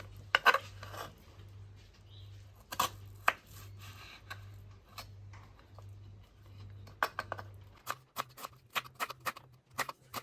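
Knife strokes chopping onion on a cutting board come as sparse, separate taps in short bursts, with quiet pauses and a steady low hum beneath.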